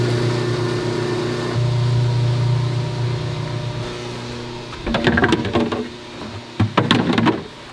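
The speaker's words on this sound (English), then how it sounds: "This is a base recipe right here, and this is the mixer." A soil mixer blends a batch of organic seedling potting mix, first holding a steady humming motor drone with a tonal whine, then breaking into two rough bursts of clattering and tumbling near the end.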